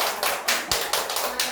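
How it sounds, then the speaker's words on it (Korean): A church congregation applauds in welcome, with quick, evenly spaced claps forming a brisk rhythmic patter in a room. "박수로 환영합니다."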